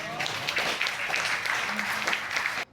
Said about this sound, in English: They clapping at every goddamn thing